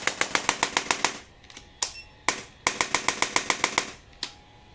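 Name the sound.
chiropractic spine adjuster gun firing at full power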